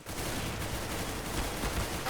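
Gunfire in the first-person shooter CS GO comes as a dense, continuous burst of rapid shots that fill the whole stretch, loud and close with no pauses.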